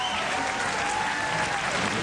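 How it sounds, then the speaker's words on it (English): Steady applause at a professional bowling tournament, a continuous wash of clapping from the crowd lasting the full two seconds at an even, moderate level with no talk over it. "His wife applauds."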